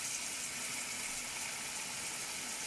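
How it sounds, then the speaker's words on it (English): Tap water runs steadily into a sink being filled about a third full, a continuous hissing gush with no pauses and no voices. "fill the sink about 1/3 of the way"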